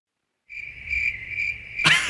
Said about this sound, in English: I want to insert like cricket sound effect right there.